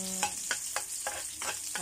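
Shallots and garlic fry in a pan with a steady close sizzle, and a spatula scrapes and stirs in a quick rhythm of about four strokes per second.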